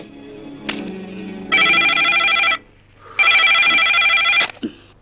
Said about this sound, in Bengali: আমি রাজাকে ফোন করছি